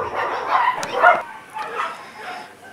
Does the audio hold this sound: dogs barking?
yes